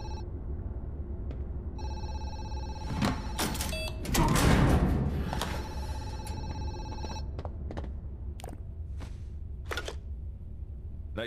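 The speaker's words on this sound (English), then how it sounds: "Oh, there's a phone." A telephone rings in the horror game Zoochosis, repeated bright electronic ring bursts with a louder rustling clatter partway through, fairly close and without talk.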